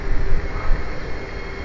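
A train rumbles with a low, steady roar and rushing noise as it departs Kranji station in Singapore, fairly close and continuous.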